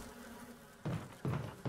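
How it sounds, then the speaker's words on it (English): Bee buzzing in the Resident Evil 1 Remastered video game, a close droning hum with three short louder swells. "let's see if we can shoot a bee"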